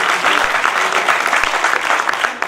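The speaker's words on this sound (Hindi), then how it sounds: "एक बार फिर से तालियां बजाकर जरा माहौल फिर से उसी जगह पर खड़ा करें" Applause from the audience at a Hindi comic poetry gathering, a loud, dense burst of many hands clapping with a few sharper individual claps standing out, steady throughout and without speech.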